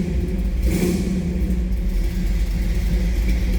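A 1956 Chevrolet 3100 Stepside pickup idles with a steady low engine rumble, close and continuous, with slight unevenness in the exhaust throb and no voices.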